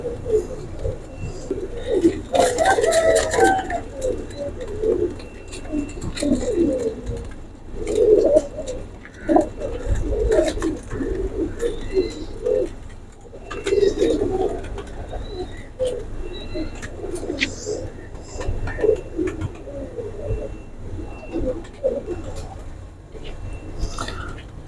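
Golden pigeons coo repeatedly in low, throaty rolls throughout, close by, with occasional rustling and a soft voice murmuring in the background.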